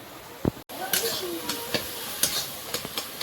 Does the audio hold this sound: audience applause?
no